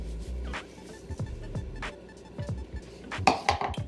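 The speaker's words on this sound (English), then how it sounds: "Gonna be hell trying to mix it all, but I'm gonna get it now." Meatloaf ingredients being mixed in a bowl in a home kitchen, a soft, squelchy stirring with irregular clinks and knocks against the bowl, close and fairly quiet, with no talk.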